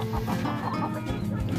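A Shamo chicken clucks repeatedly in low, throaty bursts close by, with a steady background hum.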